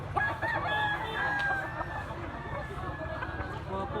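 A bullstag rooster of Halong Sweater bloodline crows loudly and close, with clucking and farmyard noise around it and people talking in the background.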